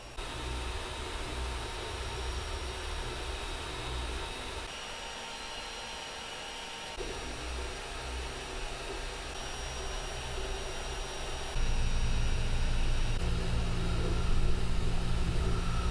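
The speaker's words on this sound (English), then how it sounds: "looks like we're printing away pretty quickly, actually." A Creality Ender-3 S1 Pro 3D printer running a print, a loud steady whir of fans and motors that shifts in pitch and level partway through and gets louder near the end, with no talking.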